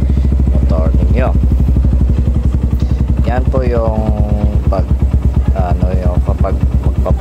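A Suzuki Gixxer 155 Fi motorcycle engine runs at a steady, close idle after an ECU reset, thumping evenly throughout while someone talks over it.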